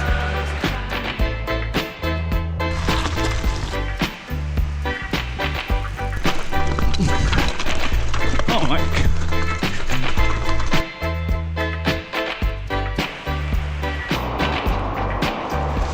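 An entry-level gravel bike ridden hard along a single track trail, with tyres rumbling over dirt, rattling frame knocks and rhythmic bumps, loud and continuous close to the rider.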